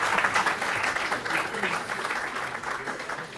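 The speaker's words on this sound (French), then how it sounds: "Applaudissons l'AERS." Steady applause from a conference audience at an economics congress plenary session, a dense, even clatter of many hands that holds for a few seconds and eases slightly toward the end.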